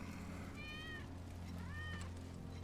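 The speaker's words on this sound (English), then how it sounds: "That's Wedge's cat." Two drawn-out cat meows from a cat in the video game Final Fantasy VII Remake, the first longer and the second rising then falling, heard clearly over a steady low game-ambience hum.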